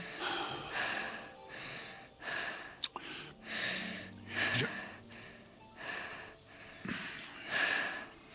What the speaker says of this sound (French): Arrête de respirer aussi fort.